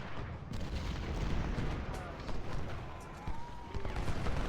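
Cannon and musket fire rumbles through a Civil War battle at Port Republic in Ultimate General Civil War, a dense, continuous roll of low booms and crackling volleys with no clear pauses.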